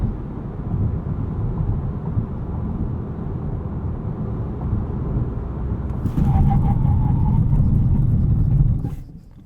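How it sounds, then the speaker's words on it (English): A 2020 Volkswagen Jetta GLI Autobahn with a six-speed manual brakes hard from 60 mph to a stop, heard from inside as steady road and tire rumble that swells near the end, then quickly fades to quiet. "Do a little 60 to 0 braking test."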